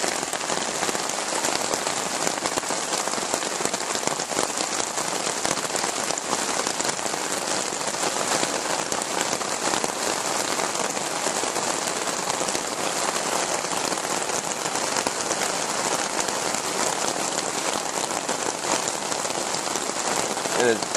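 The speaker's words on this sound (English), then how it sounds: "It is absolutely pouring out there." Heavy rain pours outside onto the ground and a canopy over a window at a rustic camp, a dense, even hiss of drops that stays loud and unbroken throughout.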